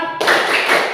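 A group of people claps hands in unison, a sudden burst of clapping that starts sharply and carries on briefly and loudly.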